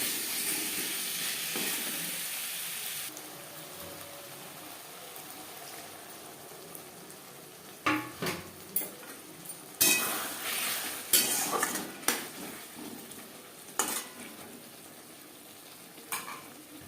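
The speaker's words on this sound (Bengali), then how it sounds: "মশলার সাথে আলু বেশ ভালো করে মিক্স করে দেবে" Potatoes are mixed into spices in a pan of hot oil, with a soft frying sizzle underneath and a run of loud scraping and clattering spoon strokes in the second half; no one talks.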